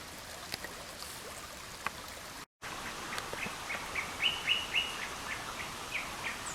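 A bird in Karura Forest calls for its mate, giving a short series of faint, high chirps partway through, set against a quiet outdoor background with a running stream.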